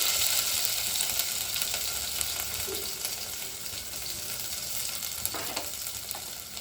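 Pounded spices hit hot oil in a pan and sizzle, a steady loud crackling hiss with a few stirring clinks and scrapes mixed in, no voices.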